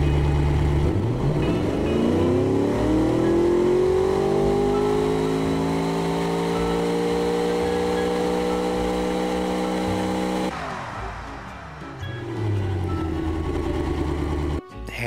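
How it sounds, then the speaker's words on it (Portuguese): A 140 hp V8 engine in the game Automation revs up with a rising, harmonic-rich roar, holds at high revs, then drops and settles into a lower idle. "Vamos ouvir o motor aqui."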